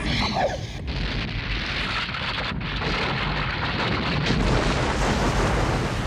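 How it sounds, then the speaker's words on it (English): Anime explosions erupt in a dense, continuous roar of booming noise, loud and unbroken, with brief dips as blasts overlap for several seconds. "Then a bunch of black explosion balls."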